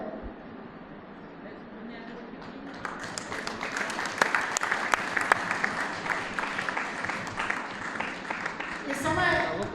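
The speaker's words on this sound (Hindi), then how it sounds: "सभी को जोरदार ताली देंगे" Applause at a school ceremony honouring children: quiet speech gives way to a long stretch of loud, dense clapping from a gathered audience, fading briefly before rising again.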